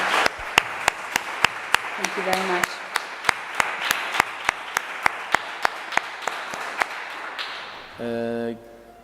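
Sharp, evenly spaced claps ring out at a slow steady rhythm, with a voice speaking briefly partway through and a tone near the end.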